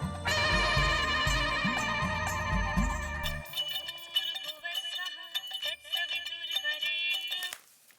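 A repeating electronic phone ringtone plays a bright melodic pattern over a low rhythmic backing, then cuts off abruptly near the end.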